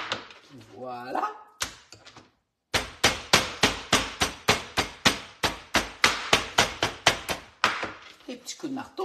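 A meat hammer pounds chicken thighs in a fast run of about twenty sharp, evenly spaced thuds, loud and close, with brief talk before the pounding starts.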